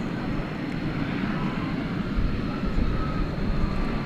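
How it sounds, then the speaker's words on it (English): An Airbus A320 airliner at DFW Airport gives off a steady, moderately faint broadband jet roar that swells slightly toward the end, with no talk over it. "Pike the Otter on an Airbus A320 flight 3278"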